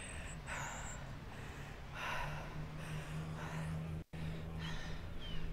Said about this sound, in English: you can just hear me panting like a dog